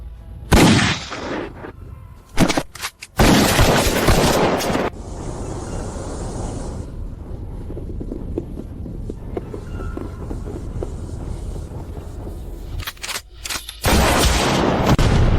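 Gunfire rings out in a wartime drama scene, with sharp bursts of shots and rattling volleys in clusters at the start and near the end, separated by a stretch of lower rumbling noise.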